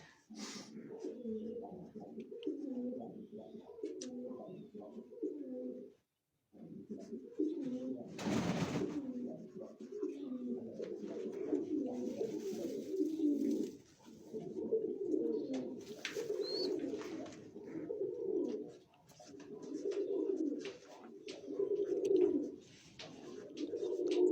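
Pigeons in Mykolaiv region coo in April, a steady run of low rolling calls repeating nearly the whole time, fairly close, with one brief pause and a short burst of noise.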